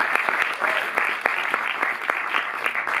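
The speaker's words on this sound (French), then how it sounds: "Vous pouvez aussi applaudir." Audience applause at a film screening in a Paris cinematheque, a fairly loud, close burst of many hands clapping with a few sharper individual claps standing out, continuous for the whole stretch.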